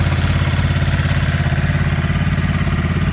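A 2023 Ducati Monster+ 937 motorcycle idles steadily up close, its loud, even engine pulse rumbling with a light mechanical clatter, no voices.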